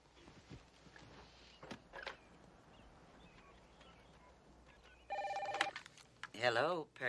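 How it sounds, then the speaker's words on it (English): An old-fashioned telephone rings in two short bursts near the end of the scene, following quiet room noise, footsteps and a few brief sounds. "There's the phone."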